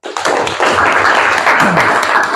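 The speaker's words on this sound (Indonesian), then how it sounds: "Tepuk tangan buat Atta." Classroom of students clapping for a classmate, a dense burst of many hands starting sharply and sustained close by.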